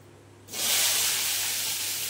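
Boiled gathi kochu (taro) pieces drop into hot tempering oil, setting off a sudden loud, steady sizzle that begins about halfway through and holds without interruption to the end, with no talking.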